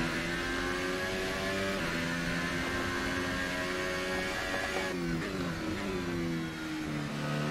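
A McLaren Formula 1 car engine in the video game F1 2018 at Monaco drones steadily with rising and falling pitch, loud and continuous, with a faint electronic hum underneath.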